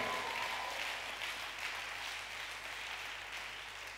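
A church congregation applauds continuously at a French-language worship service, broad steady clapping of many hands filling the space at even loudness throughout.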